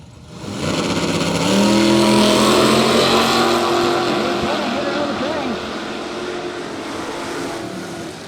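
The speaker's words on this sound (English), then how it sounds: "Oh, that is no little racing going on." Drag racing cars launch side by side down the strip at a Radial Fest event, the engine roar loud and sustained for several seconds, rising and fading, while a voice talks over it.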